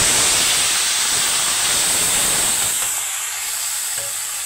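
Masala for chana dal sizzling in a hot pan, a steady bright hiss that stays loud and close, softening slightly toward the end, no voices.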